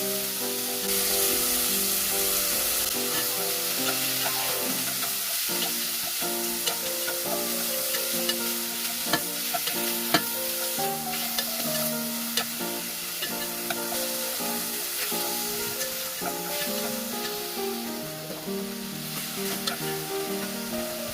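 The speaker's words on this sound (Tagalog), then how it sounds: "Pagkalagay ng sesame oil, igigisa ko lang yung beef." Beef sautéing in sesame oil for Korean seaweed soup, a steady loud sizzle with occasional stirring scrapes running continuously throughout, with music playing over it.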